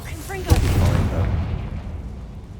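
Confringo blasting spell in a Hogwarts video game, a single sharp boom followed by a rumbling decay, with a voice speaking over the start.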